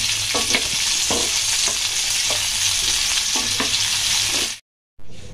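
Food frying in ghee over medium heat gives a loud, dense sizzle with faint rhythmic stirring scrapes, cutting out abruptly near the end before resuming, with no voices.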